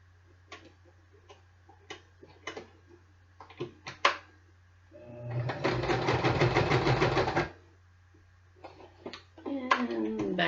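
A sewing machine stitches a small zigzag box on ethnic clothing, one steady two-second run of whirring stitches preceded by scattered ticks and clicks, with a voice speaking softly around it.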